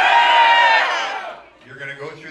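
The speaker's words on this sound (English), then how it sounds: "Can I hear you cheer?" A Medieval Times audience cheering in a loud burst of shouts and whoops that fades after a second or so, followed by a quieter scattered mix of voices and calls.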